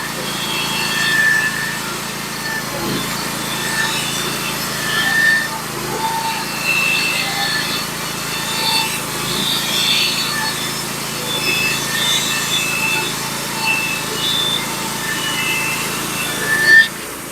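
A Norwood HD36v2 sawmill cuts 14-foot boards 5/8 inch thick, giving a steady, moderately loud mechanical drone with an airy high blade whine and small fluctuations throughout.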